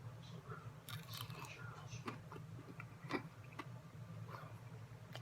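Crunchy roasted potato being bitten and chewed close up, a handful of sharp crisp crunches scattered over a few seconds against a faint low hum, with no talk.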